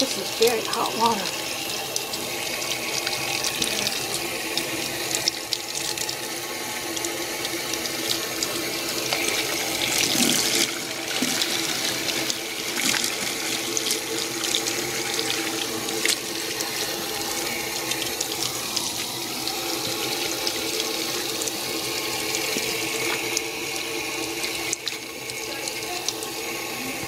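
Hot water runs from a tap into a sink while a felted scarf is washed, a steady, close hiss and splash that continues throughout, with low voices now and then underneath.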